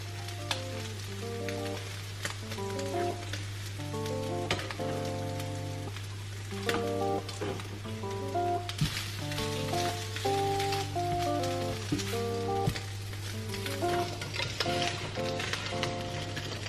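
Food sizzling and frying in a pan, a steady hiss running beneath background music with a constant low hum.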